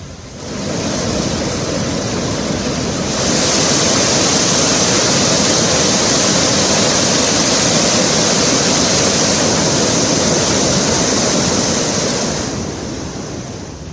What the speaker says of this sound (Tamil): கம்மம் மாவட்டத்தில் உள்ள பாலேறு நீர்த்தேக்கம் நிரம்பி தண்ணீர் வழிந்தோடியது